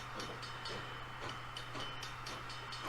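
A train in a VR hand tracking demo game runs steadily, a continuous rumble with faint rhythmic clacks and a low hum, moderately close and alone.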